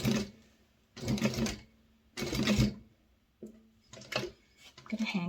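A sewing machine stitching a minimalist wallet runs in three or four close, loud bursts of rapid stitching with pauses between them.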